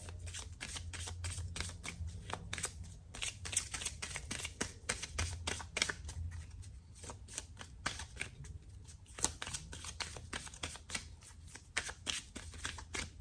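Rapid, steady card shuffling, crisp riffling flicks repeating close up for several seconds with no voices.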